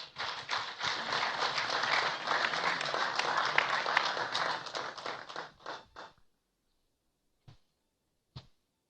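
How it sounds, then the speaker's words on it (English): An audience at a candidacy declaration event applauds to welcome a spoken-word performer: dense, sustained clapping for about six seconds that thins out and stops, followed by two isolated, sharp claps. "Please, let's welcome her with a round of applause."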